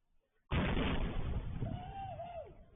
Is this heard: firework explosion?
yes